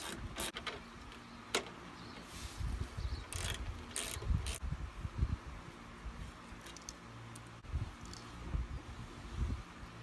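Ratchet with a 10mm socket loosening intake manifold bolts on a Subaru EJ engine, faint clicking ratchet strokes and metallic clunks in short bursts, close but quiet.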